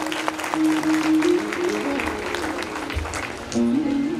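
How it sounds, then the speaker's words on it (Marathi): Audience applause at a Ganesh festival gathering in a Marathi household, a steady patter of claps throughout with a sustained musical drone tone running underneath. "सगळ्यांसाठी टाळ्या पण आहेत"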